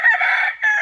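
A roundhead gamefowl rooster crows once, loud and close, in a short strained call with a brief break near the end.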